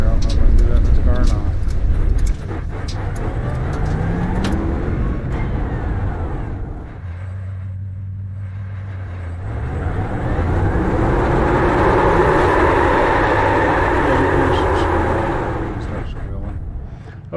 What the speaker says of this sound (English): Okay, that's tire sounds.